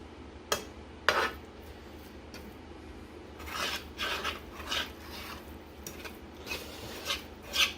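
A spoon scrapes around the edges of breakfast food cooking in a pan, giving quiet, irregular rasping strokes and light metallic clinks, close and alone against a low background hum.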